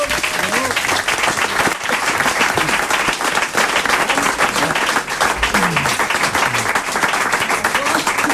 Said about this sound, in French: On peut applaudir Valérie